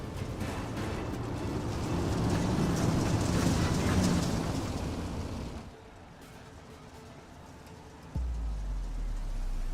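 410 winged sprint cars on the final pace lap at USA Speedway, a broad engine roar that builds and then fades, followed by a sudden low hum.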